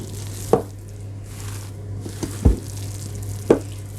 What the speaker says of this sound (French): on va mélanger un petit peu énergiquement pour qu'on puisse faire rentrer les blancs